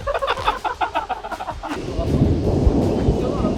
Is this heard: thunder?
yes